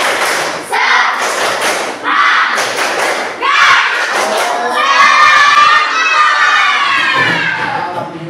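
A class of Indonesian schoolchildren performs a loud rhythmic spirit clapping chant in a classroom, with dense clapping and bursts of shouting voices filling the room.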